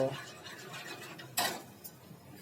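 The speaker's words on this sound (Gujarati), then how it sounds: "ચાલો તેને બરાબર મિક્સ કરી લઈએ મિત્રો" A spoon stirs manchow soup in a pot, giving soft scraping with one sharp metallic clank midway and a lighter tap after it.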